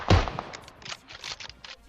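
Sniper rifle shot from an AWM in PUBG Mobile: one sharp, loud crack at the start, followed by a few fainter thuds and rattling game noises that fade quickly.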